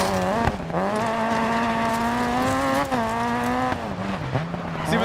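A rally car in the DiRT 4 racing game drives with a loud, steady engine drone that rises and dips as it shifts, with brief tire scrubs along the way. The car is close and dominant throughout, with no talking.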